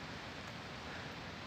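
Steady rain falling in a park with oak trees, a continuous soft hiss of drops with no voices over it.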